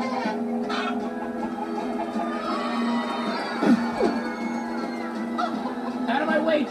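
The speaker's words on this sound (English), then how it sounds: "Out of my way, chickens!" Minecraft Story Mode chickens cluck and honk over a steady musical drone, with a few sharper squawks partway through.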